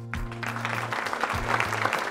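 Applause at an American Legion service awards ceremony fills the clip, steady and fairly loud, with a low tonal hum running underneath.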